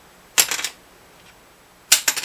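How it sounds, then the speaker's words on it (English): Two quick bursts of hard, bright tapping on a bone guitar saddle, each a tight flurry of clicks, with a short quiet gap between them, heard up close. "it would sound like this bone saddle right here"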